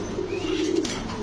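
Spanish pouter pigeon cooing in a low, steady rumbling coo lasting about a second, close and fairly clear against a faint background hum.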